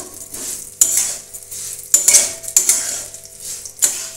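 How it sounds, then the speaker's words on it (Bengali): Gobindobhog rice being stirred in a little white oil in a kadai, with repeated sharp scrapes and clinks of a metal spoon against the pan over a soft sizzle, close and rhythmic, no voices. "এখন তেলে আমি দিচ্ছি এই গোবিন্দভোগ চালটা। চালটা অল্প একটু তেলে আমি নেড়ে নেব।"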